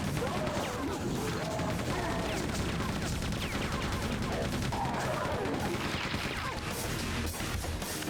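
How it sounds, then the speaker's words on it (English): Rapid machine gun fire in Quake 2 crackles continuously through a dense, busy game mix of impacts and clanking mechanisms, with no pauses across the stretch. "Let's use the machine gun for a bit."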